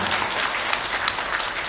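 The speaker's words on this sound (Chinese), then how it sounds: "我们为他的这种真诚和谦虚鼓鼓掌" Audience at a Communist Youth League event in Hunan breaking into steady, dense applause, a full even wash of clapping filling the hall without pause.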